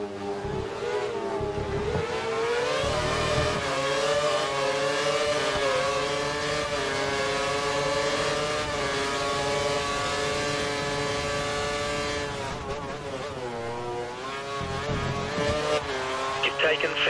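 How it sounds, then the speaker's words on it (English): Engine of a Formula 1 car in the F1 2013 video game at Imola, held at full revs and maximum power, a loud, steady high-pitched whine with rising and falling pitch through gear changes, under intermittent talk. "Looks like the car ahead is trying to create a gap. He's running full revs, maximum power."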